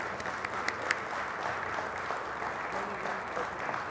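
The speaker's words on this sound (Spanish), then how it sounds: "Por favor, recibamos con un muy fuerte aplauso al ingeniero Rubén" Applause welcoming an engineer from Mexico's Federal Electricity Commission at a conference closing ceremony, a soft, even wash of many hands clapping, distant and steady with a few sharper claps near the start.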